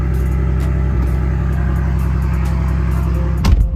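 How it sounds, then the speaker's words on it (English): A Ford Bronco engine idles loudly through a newly fitted Flowmaster exhaust, with a deep, steady, throbbing rumble up close that swells briefly near the end. "Excuse the super loud exhaust. I just got Flowmaster installed on here"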